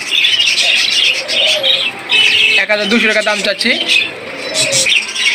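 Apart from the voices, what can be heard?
pair of adult doves cooing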